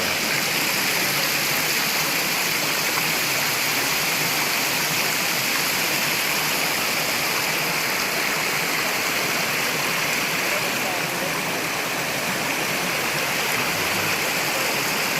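River water at Wawa in Montalban, Rizal, rushing and flowing in a steady, loud, unbroken hiss, with no voices.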